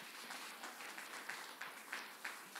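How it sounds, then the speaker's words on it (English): A faint, distant round of audience applause from a church congregation, steady dense clapping with a few sharper claps standing out, no talk over it. "So if we could just give her a round of applause and welcome her real quick"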